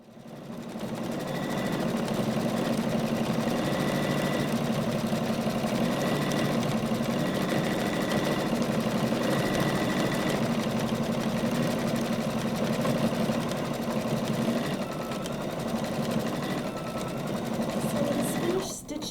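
An embroidery machine stitches out black lettering in a quilt shop, a steady, close mechanical whir that runs without pause for the whole stretch.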